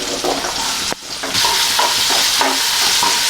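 Onions sautéing in coconut oil in a wok while making a Kerala home-style lunch: a loud, steady sizzle and stir close up, briefly dipping for a moment before surging back.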